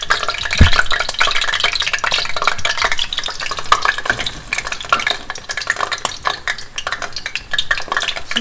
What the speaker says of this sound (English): You can see how this is nice and sizzling up